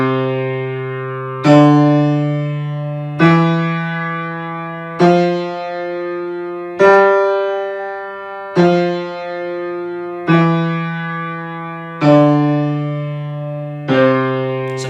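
Piano chords are struck one after another at an even, slow pace, the bass notes weighted heavier than the upper ones, each ringing out and fading before the next, about eight in all, with no talking.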